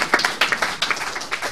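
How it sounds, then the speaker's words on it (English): Brief, scattered clapping from a small audience at an evening talk on energy access in developing countries; separate, uneven claps over about a second and a half, with no voices. "I think you all deserve your own round of applause"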